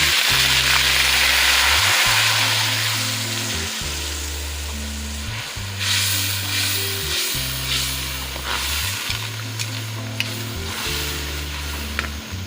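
Mustard greens saag in a pan sizzling loudly after a splash of water is added, a bright hissing fry that eases slightly over time while a utensil stirs and scrapes in irregular strokes.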